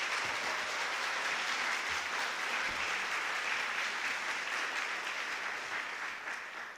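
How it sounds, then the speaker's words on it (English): Steady applause from a sizable audience, a dense wash of clapping that holds throughout and fades slightly at the end. "a big round of applause to our board members"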